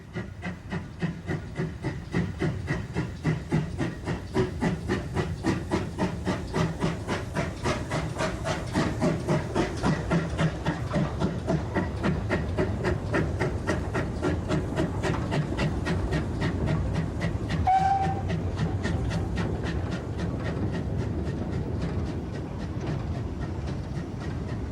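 A GWR 1600 class pannier tank steam locomotive in BR livery works with steady, rapid rhythmic exhaust beats that grow louder and hold, with a brief high note partway through and no voices.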